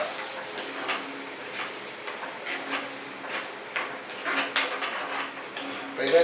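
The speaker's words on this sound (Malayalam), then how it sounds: "നമുക്കിത് ഇളക്കാം." A spoon stirs onion curry with yogurt in a pan on low heat, making irregular light scraping and clinking against the metal, close and fairly quiet, without talk over it.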